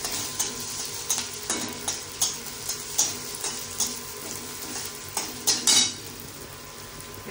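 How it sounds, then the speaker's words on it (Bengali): Onions and chopped green chilies fry in hot oil in a home kitchen, a steady sizzle broken by repeated close clinks and scrapes of a spatula stirring the pan. "তেল পেঁয়াজগুলো ভাজা ভাজা হয়ে গেছে, আর কয়েকটা কাঁচা লঙ্কা"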